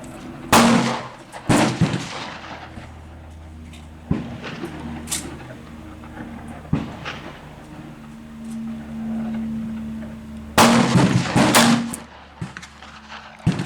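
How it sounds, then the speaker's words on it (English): Six .38 Special gunshots from a 2-inch snubnose revolver loaded with 202-grain short rounds, fired at an outdoor range, sharp loud reports spaced a second or more apart over a steady low background hum. "here we go, the first 6 shots"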